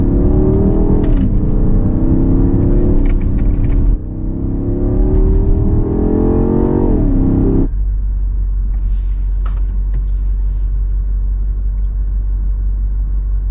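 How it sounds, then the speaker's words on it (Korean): A BMW X6M accelerates hard in two loud rising engine pulls, each climbing in pitch before a shift, then settles into a deep steady rumble and road roar; no talk. "마구잡이로 주행을 해봅시다"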